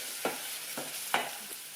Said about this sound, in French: je suis en train de faire suer un oignon avec un peu d'ail